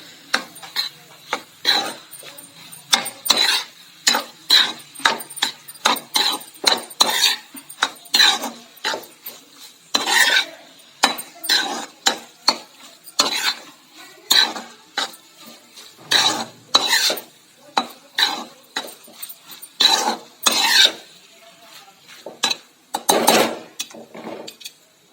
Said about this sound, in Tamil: இப்ப எல்லாத்தையும் ஒண்ணா சேர்த்து கலந்து விட்டுருவோம்.